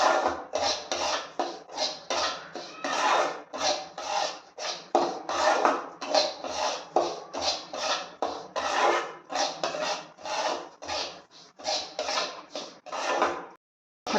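Semolina being stirred and roasted in a pan over a high flame, a rapid rhythmic dry rasping scrape repeating steadily for over a dozen seconds, close and fairly loud, then stopping abruptly.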